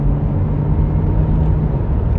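Steady low engine rumble from an Australian Ford car while driving, heard from inside the cabin, continuous and fairly loud with no voices over it.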